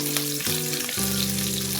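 Dried chili, garlic, ginger and scallion frying together in hot oil for kung pao chicken, a loud steady close sizzle with occasional stirring scrapes and no voices.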